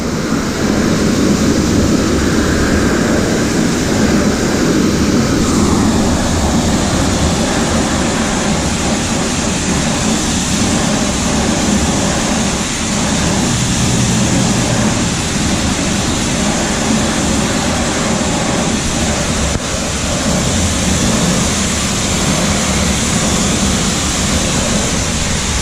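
High-pressure water spraying BMW wheels during brake dust removal, a steady loud broadband hiss and roar that continues unbroken for the whole stretch with no speech.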